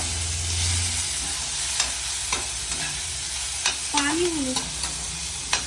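Onions frying in a pan while being stirred for Maggi noodles: a continuous sizzle with repeated scraping strokes of the spoon, close by, and brief faint voices in the background.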